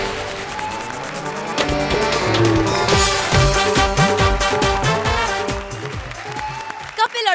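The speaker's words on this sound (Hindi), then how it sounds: "जोरदार तालियां हो जाए भारतीय सिद्धार्थ के लिए।" Loud studio audience applause on a stand-up comedy show, dense clapping sustained for several seconds with music and cheering mixed in, tapering near the end.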